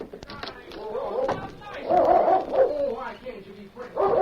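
A dog barks and whimpers at close range in a dramatized scene, several short yips and whines scattered over a few seconds among people talking.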